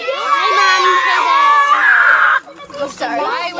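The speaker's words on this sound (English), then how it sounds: "Why would you scream like that?" Second-grade children at a summer camp on a beach shell outing scream in a loud, sustained, high-pitched burst of excitement, breaking off abruptly, followed by a few shorter shouts and voices close by.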